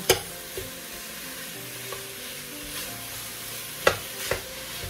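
Ground beef fries with garlic and onion for Filipino spaghetti, a low steady sizzle broken by a handful of spoon knocks and scrapes against the pan, fairly quiet and near.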